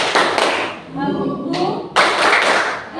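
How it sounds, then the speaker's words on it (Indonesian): A classroom of students claps a rhythmic cheer in quick bursts, the claps sharp and close with voices chanting between them. "Kita tepuk semangat dulu supaya kita lebih semangat lagi ya."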